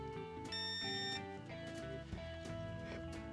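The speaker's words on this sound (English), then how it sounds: "Okay, I've got this set up so when these points actually contact," A continuity tester beeps as the contact points of an automotive relay touch, giving short electronic tones that start and stop over a quiet bench background.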